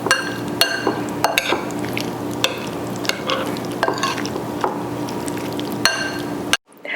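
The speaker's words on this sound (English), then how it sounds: "And we mix again." Pico de gallo is stirred in a bowl with a spoon, giving close, repeated clinks and wet scraping in an uneven rhythm that stops abruptly near the end.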